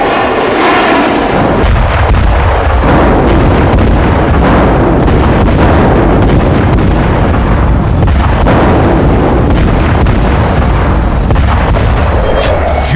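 Russian missile strikes blasting in a heavy, continuous barrage of loud booms and rumbling detonations that overlap with no break, close and powerful throughout.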